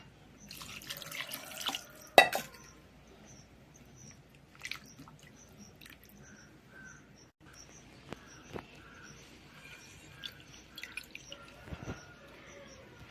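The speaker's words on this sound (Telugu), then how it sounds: "చన్నీళ్ళతో ఒకసారి పోద్దాం ఇలాగా" Cold tap water rinses freshly curdled paneer, made with lemon juice for homemade rasgulla, as faint intermittent drips and small splashes trickle into a sink. No one speaks.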